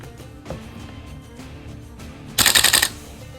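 A Colt M727 VFC gas blowback airsoft rifle fires a short rapid burst of about six sharp cracks near the end. Quiet handling clicks come before it.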